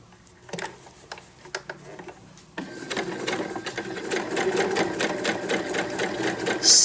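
A sewing machine stitches a seam on a mini Christmas stocking lining. A few sparse clicks give way to a steady, close mechanical whir that grows louder toward the end.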